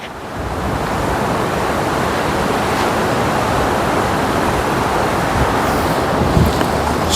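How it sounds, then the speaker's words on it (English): Ocean surf breaks steadily in a broad, continuous wash, loud and close, with wind buffeting the microphone and no talking. "Wow, look at these waves."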